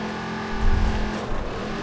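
A car engine in Watch Dogs 2 drives steadily, its drone rising to a louder revving swell in the middle before settling back, with no talk over it.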